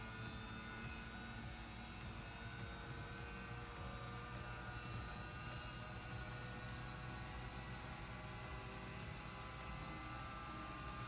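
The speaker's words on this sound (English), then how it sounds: "We can now stop the survey and decelerate the engine." A turbine engine running during a balancing survey near 9,000 RPM gives off a continuous, even, loud broadband roar with a steady whine and no breaks or voices.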